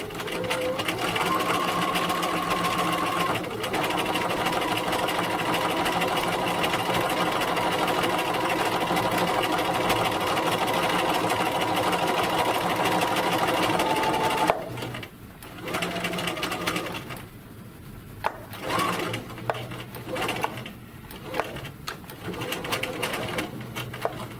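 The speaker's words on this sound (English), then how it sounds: "now I'm just going to stitch 1/4 inch down the length of my piece" A sewing machine runs a steady close whirr while stitching a quarter-inch French seam along chiffon, then stops and restarts in short bursts for back stitching near the end.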